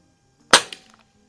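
A single sharp pop as a Crosman 3622 air gun fires a pellet, close and crisp, with a fainter secondary click just after and quiet around it.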